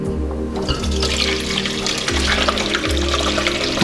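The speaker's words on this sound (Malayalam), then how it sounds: "അപ്പം നമുക്ക് ഇത് ഒരു അരിപ്പയിലേക്ക് അരിച്ചെടുക്കാം." Homemade date wine poured through a sieve into a dry vessel makes a steady, continuous splashing trickle, close up, with a low mechanical hum underneath and no talking.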